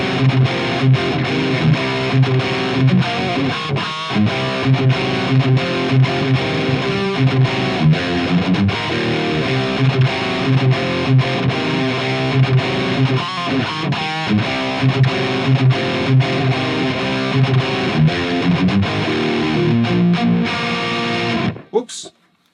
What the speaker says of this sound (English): my Marshall JCM 800 cabinet from the 80s with the original white label Celestion G75s, and it sounds like this